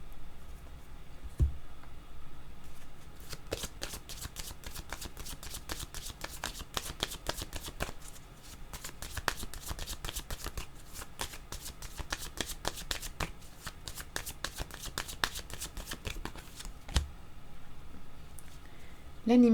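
A deck of cards for a reading is shuffled continuously, producing dense, rapid papery flutters and snaps with brief pauses, close and fairly quiet, with occasional talk in the background.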